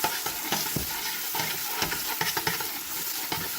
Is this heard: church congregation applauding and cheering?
no